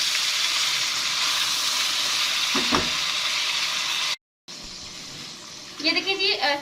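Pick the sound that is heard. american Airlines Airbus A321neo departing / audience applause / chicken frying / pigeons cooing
chicken frying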